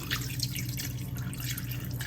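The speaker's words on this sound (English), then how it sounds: "so now we're gonna add water to our meat" Water trickling and dripping into a pot of marinated meat for Haitian griot, a steady close splashing pour with no talk.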